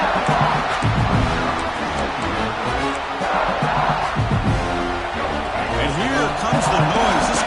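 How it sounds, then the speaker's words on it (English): A stadium crowd in the College Football 26 video game roars in a dense, sustained wall of cheering noise during a Georgia versus Alabama playoff game, with a voice talking over it. "Comes the noise. This crowd is trying to inspire this defense to make a big red zone stop."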